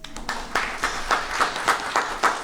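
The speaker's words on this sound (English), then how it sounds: "we can clap for those folks" An audience at a Juneteenth community gathering in Asheville claps in rhythmic bursts, a steady patter of hands rising in several pulses, moderately close and without speech over it.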